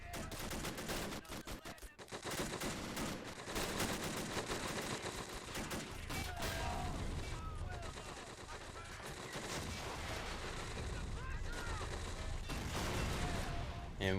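Sustained gunfire from Men of War: Assault Squad 2, dense rattling machine-gun bursts and sharp rifle shots with heavier blasts mixed in, constant and close, with a voice talking over the battle at times.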